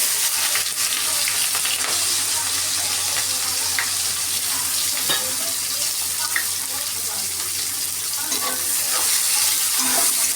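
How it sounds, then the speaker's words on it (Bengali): Chopped onions fry in a pan with a dense, continuous hiss and crackle, close and fairly loud, with faint stirring clicks now and then. "আগে একটু পেঁয়াজটা ভেজে নিই।"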